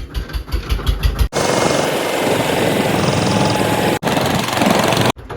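A tractor engine chugs in quick pulses, then settles into a loud, steady running rumble close by, broken only by a couple of brief dropouts.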